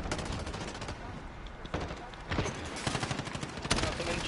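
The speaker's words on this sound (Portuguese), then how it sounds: "Tá tomando tiro de fora do mapa." Rapid bursts of gunfire in the online shooter Call of Duty: Modern Warfare, crackling repeatedly across the whole stretch with dense, overlapping shots at steady loudness, growing slightly heavier toward the end.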